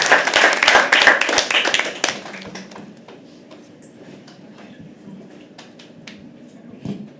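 An audience at a live poetry open mic at The Habitat claps loudly and densely for about two seconds as the poet walks to the stage, then the applause thins to a few scattered claps over quiet room noise.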